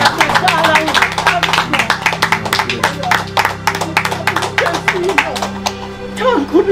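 Applause from an audience: a burst of clapping from a crowd, fairly close and steady, with people talking over it.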